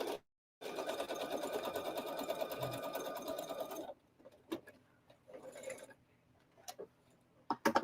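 A sewing machine stitching a quilt block, running in one rapid continuous stretch of needle chatter for about three seconds, then a few shorter stop-start bursts and light clicks.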